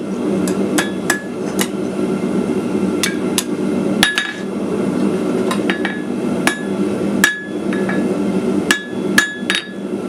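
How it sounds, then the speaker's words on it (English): Hot metal being forged into a decorative berry on the corner of an anvil, hammer blows ringing out sharply and irregularly, about a dozen strikes spaced unevenly over a steady background hum. "just hit it down into the corner of the anvil and trying to upset that"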